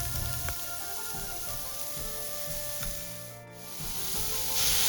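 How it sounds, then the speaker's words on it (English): Pears sautéing in melted butter in a pan give a steady close sizzle and crackle with occasional soft pops, continuous for a few seconds. "Once it melts, you can saute your pears."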